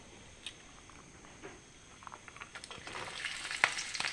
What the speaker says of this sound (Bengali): এখন আমি কেটে রাখা ওই আমড়া আর কচুর ফুল দিয়ে দেবো এর মধ্যে